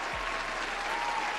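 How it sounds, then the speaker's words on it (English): An audience applauds steadily and loudly throughout, a dense wash of clapping with no pauses. "So let's give her a round of applause for that."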